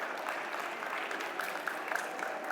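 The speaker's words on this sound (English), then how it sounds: "Give her a round of applause as she joins me on stage" Audience clapping for a volunteer joining a magician on stage at DEF CON 30, a steady dense patter of many hands throughout, fairly loud and without speech.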